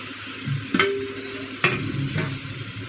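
Roughly chopped tomatoes dropped onto golden fried onions in a hot pan for tomato chutney, a steady close sizzle broken by a few stirring scrapes and clacks, no talk.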